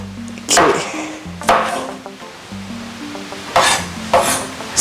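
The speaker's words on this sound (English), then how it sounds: "So just doing my rocking motion, one hand, one end, and just rock and finally chop my garlic." A knife chops garlic with a rocking motion on a board: sharp close strikes in irregular pairs, with a low hum and faint clatter between them.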